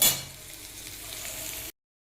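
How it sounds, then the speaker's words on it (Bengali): Flat beans (shim) fry in a pan with a steady, close sizzle that starts with a brief louder burst, then holds even before cutting off abruptly. "একটু শিম ভাজা করছি"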